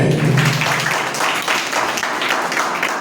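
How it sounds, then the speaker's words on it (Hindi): Loud, dense congregational clapping at a church service, continuous and steady throughout, filling the room with no voices on top. "प्रभु को जोरदार ताली बजाइए"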